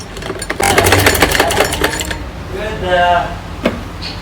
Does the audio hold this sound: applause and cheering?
no